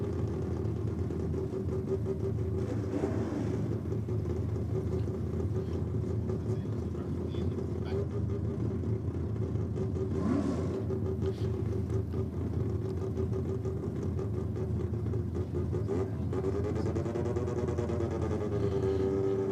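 A Mazda RX2 drag racing at a 2023 drag meet: steady engine drone throughout with a rising engine pitch sweep near the end, heard beneath a track commentator's voice.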